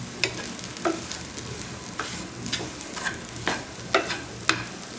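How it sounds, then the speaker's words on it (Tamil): Potato masala with turmeric and salt is stirred in a pan: a low frying sizzle under repeated scraping and clinking strokes of a spoon, about one every half second, close and fairly quiet. "இப்போது அந்த மஞ்சள் தூள், உப்பு எல்லாம் அந்த உருளைக்கிழங்குல ஒட்டுற மாதிரி நல்லா மிக்ஸ் பண்ணி விடுங்க."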